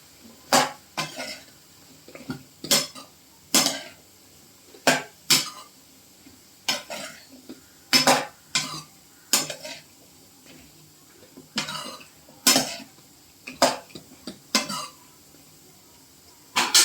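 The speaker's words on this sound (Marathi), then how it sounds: "शेवग्याची शेंग आणि लाल भोपळा. ते पण छान परतून घेऊया." Drumsticks and red pumpkin being sautéed for sambar in a pot, heard as a series of sharp metallic spoon clanks and scrapes against the pot at irregular intervals, with quiet frying underneath.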